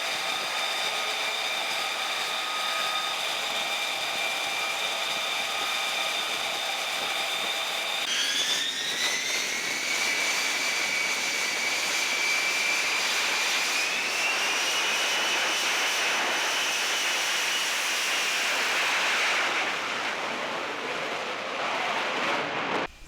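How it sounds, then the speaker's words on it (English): British F-35B fighter jets fill the air with a loud, steady turbine roar and a high whine that rises in pitch partway through, then gradually eases off near the end. "The first flight of 4 British jets, as seen here, are the first 4 to head home."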